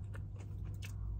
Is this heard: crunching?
yes